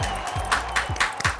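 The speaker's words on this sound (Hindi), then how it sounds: "ये जो अलग से ताली आ रही है ये परमेश की अपनी है" One person clapping alone on a set, a few sharp, separate claps spaced unevenly, close and fairly loud, with a faint voice beneath.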